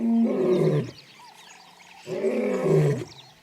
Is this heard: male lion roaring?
yes